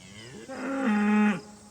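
A cow in a barn, one that has just calved, lets out a single loud, drawn-out moo that swells and holds for about a second before stopping abruptly.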